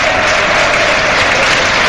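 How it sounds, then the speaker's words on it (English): A football stadium crowd at Manchester City v Tottenham applauds in memory of a Manchester City supporter, producing a loud, dense, sustained wall of clapping that fills the whole moment. "this is a applause to a Manchester City supporter"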